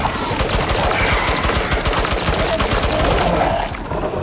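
Rapid automatic gunfire in the survival game Icarus, a loud continuous stream of shots that tails off near the end, with no talking.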